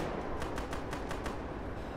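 Gunfire in the Arma military video game, a rapid burst of about half a dozen sharp shots in the middle of the clip, set against a steady, noisy battlefield background.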